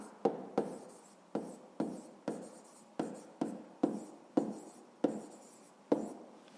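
A pen writes on paper in a steady series of short strokes and taps, a dozen or so scratchy bursts, close and alone.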